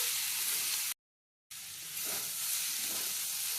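Bottle gourd peels and potatoes fry in a pan (kadai) with a steady, close hiss of sizzling, broken by a brief silent gap before the frying noise resumes, with faint stirring.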